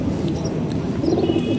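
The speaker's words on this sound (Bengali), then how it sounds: "এই যে কবুতর দেখতেছেন বাঘা" A pigeon gives a soft, low cooing close by, a short burble over faint background noise.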